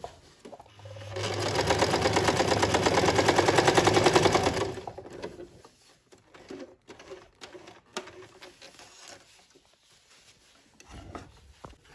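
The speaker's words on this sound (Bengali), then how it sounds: "তো এই তো আমি সেলাইটা করলাম" A Singer SM024 sewing machine stitching fabric runs in a fast, even mechanical chatter for about four seconds, then stops, leaving scattered handling clicks and rustles.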